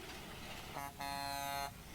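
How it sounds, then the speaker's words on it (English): A big truck rig's air horn sounds in a single long toot, loud and steady over a low background rumble, with a brief blip just before the main blast. "you would motion to the driver to toot the big horn on the rig"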